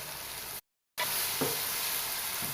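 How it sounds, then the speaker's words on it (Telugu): Chopped tomatoes sizzle and fry in a pan for a Nellore-style fish curry, a steady close hiss broken by a brief gap, with faint stirring bumps. "టమాటా మగ్గడానికి కొంచెం ఉప్పు వేస్తున్నానండి."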